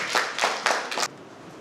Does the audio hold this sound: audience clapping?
yes